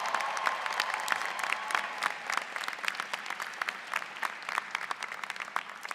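Graduation audience at a university commencement bursts into sustained applause and cheering for families and friends, a dense, steady roar of clapping from a large crowd without a break.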